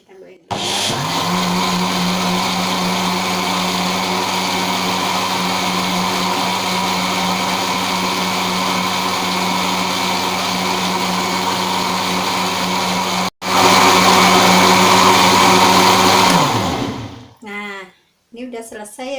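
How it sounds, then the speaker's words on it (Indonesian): A blender whirs loudly and steadily for a long stretch blending rice and kencur for jamu, briefly cutting and restarting near the end before winding down to silence. "Kita blender."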